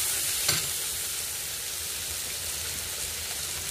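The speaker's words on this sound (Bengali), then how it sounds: "এটা দেখুন মশলাটা আস্তে আস্তে ভাজা হয়ে একটুখানি তেল ছেড়ে দিয়েছে।" Spice paste fries in oil in a pan with a steady, close sizzle and crackle. A single brief scrape or stir sounds early on, and the frying then continues evenly throughout.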